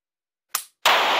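The slide of a dry-fire laser training pistol is racked by hand in a quiet room: one short metallic snap, then a louder, sustained sliding rasp that carries on to the end, with no talking.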